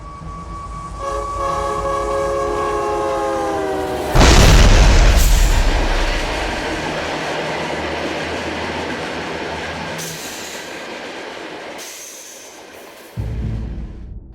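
A UTA FrontRunner commuter train sounds its horn in sustained tones at a level crossing with failed arms and lights, then hits a FedEx semi-trailer with a sudden heavy boom and a long, loud rolling rumble.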